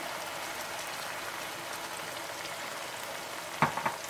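Keema, minced meat, fries in a karahi with a steady, dense sizzle that runs evenly throughout, broken near the end by two brief sharp clinks or scrapes.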